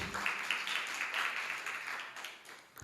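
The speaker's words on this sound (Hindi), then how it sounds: "जोरदार तालियां।" An audience at a Jain religious discourse gives a round of applause, a soft, even wash of many hands clapping that holds steady and slowly fades.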